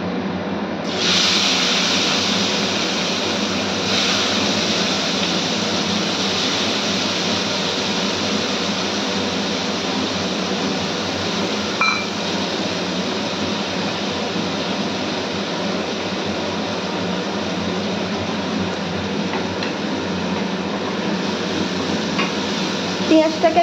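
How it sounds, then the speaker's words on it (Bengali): Onions deep-frying in oil for biryani birista, a steady dense sizzle running unbroken and fairly loud throughout, with a few faint clinks of a utensil near the end. "পেঁয়াজটাকে আমি লাল লাল করে ভেজে নেব একটু ভালোভাবে।"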